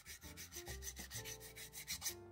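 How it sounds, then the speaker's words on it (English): Dry scraping friction from a layered FDM 3D printed part being rubbed, a steady rough rasping texture that pulses in repeated strokes, close and quiet with no voices. "That rubbing sound coming from all the layers."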